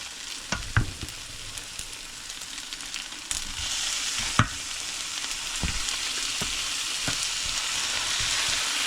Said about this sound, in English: Now we toss some shrimps and vegetable in.